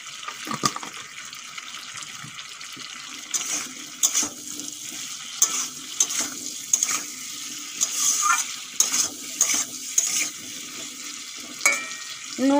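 Raw pumpkin cooking in a pan with salt added, a soft ongoing sizzle broken by repeated sharp clinks and scrapes of a utensil against the pan, close and unvoiced.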